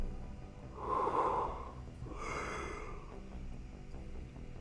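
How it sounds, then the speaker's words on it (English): A person yawns twice, a long breathy inhale-exhale near the microphone followed by a second quieter drawn-out yawn, with no talking. "I apologize for the constant yawning, it's just kind of late for me."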